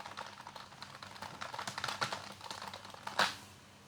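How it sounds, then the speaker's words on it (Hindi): Rapid typing on a computer keyboard, an irregular run of light clicking keystrokes heard alone and fairly faint, ending with one louder sharp key press. "अब जिस तरह मैं कुछ लिखने जा रहा हूँ अपने कीबोर्ड से"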